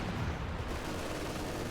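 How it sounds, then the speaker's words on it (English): Katyusha rocket artillery firing in a Company of Heroes 2 battle, a dense continuous roar of launches and blasts filling the whole moment, loud and unbroken. "I hear a Katusha"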